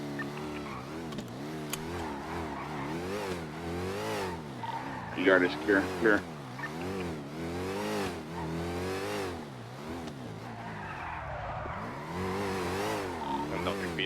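In a GTA roleplay game, a car drives up with a steady engine drone and several surges of revving while people talk over it throughout.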